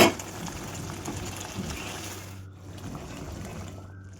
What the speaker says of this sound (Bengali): এবার দিয়ে দেবো পরিমাণ মতো গরম জল।